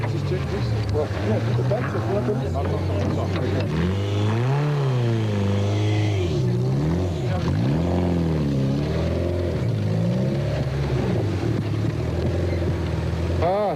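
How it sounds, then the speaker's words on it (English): A Nissan rally car with a loud, raspy exhaust revs and shifts repeatedly nearby during the 2001 Sugarbelt 400 rally, pitch climbing and dropping, while a person talks over the noise. "very noisy exhaust coming off"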